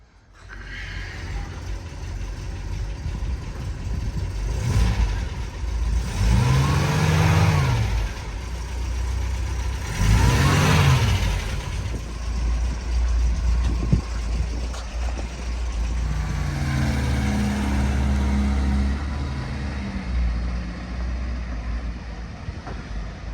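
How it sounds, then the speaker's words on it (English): An MG MGB GT, left in a garage for eight years, idles and then revs several times before pulling away, the engine loud and close with rising bursts and a steady rumble throughout. "That's the MG off for its test drive."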